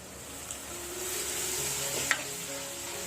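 Onions and tomato sautéing in oil in a clay pot for a Chettinad prawn gravy, a soft steady sizzle with a few light clinks of a stirring spoon, no talking.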